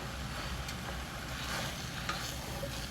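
Ground beef and kielbasa frying in a pan, a steady, dense sizzle with faint stirring scrapes throughout, close and continuous with no voices.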